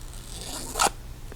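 A single quick snip of scissors cutting through a sheet of planner stickers, brief and close, over a quiet room hum.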